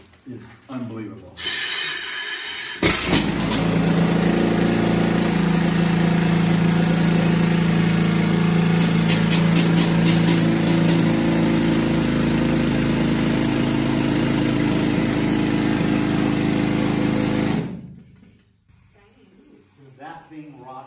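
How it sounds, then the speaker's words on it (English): A heavy mining drill, shown in the historic mining town of Wallace, Idaho, runs loud and close in one long, continuous grinding roar that starts abruptly and cuts off near the end. "Now I want to show you what the drill's like"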